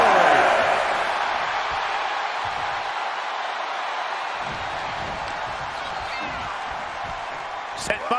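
A large crowd roars steadily in a WWE 2K24 wrestling arena during a WCW Halloween Havoc match, a broad sustained cheer that swells at the start, with commentary talk over it.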